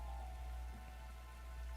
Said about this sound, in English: This rain stuff is nothing but trouble. I'm gonna get soaked standing out here.